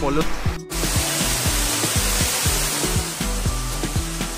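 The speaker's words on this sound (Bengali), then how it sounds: "আমি দারুণ ঝর্ণার সামনে চলে আসছি" A monsoon waterfall at Igatpuri roars in a steady, dense rush of falling water, with someone talking over it throughout.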